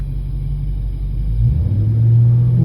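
A car engine runs with its hood area close by during a diagnostic scanner test, a steady low idle rumble that swells slightly after the midpoint as the revs lift, with no talking.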